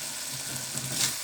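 Cabbage cooks in hot oil in a covered pot for a Sri Lankan tempered cabbage dish, giving a steady, soft sizzle and crackle throughout with a brief louder flare near the end.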